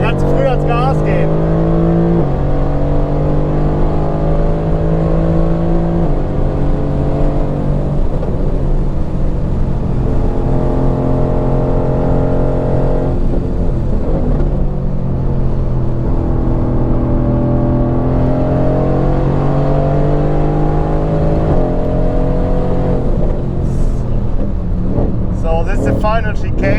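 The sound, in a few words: Mercedes-AMG GT-R race car accelerating at Spa-Francorchamps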